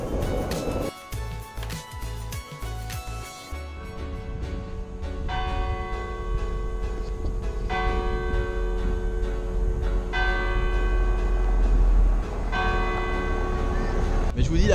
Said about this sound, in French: entendre les cloches de cette église villageoise sonner ici à 22 h